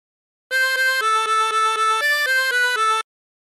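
A chromatic harmonica plays a short phrase of She'll Be Coming Round the Mountain as about ten evenly spaced, clean sustained notes in a simple rhythm, close and clear against silence.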